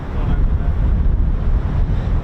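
Strong, steady wind buffeting the microphone at RAF Lakenheath air base, a loud continuous low roar with no break and no voices.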